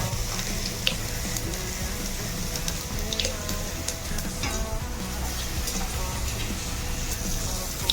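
Masala spices fry in a pan with a constant, dense sizzle that stays loud and steady throughout, with faint clinks now and then.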